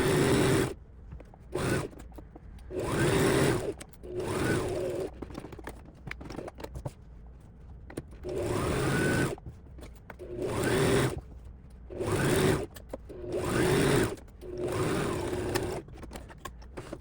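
A sewing machine stitches fabric in repeated bursts of mechanical whirring, each run lasting one to two seconds and separated by short pauses, close and fairly loud with no talk over it.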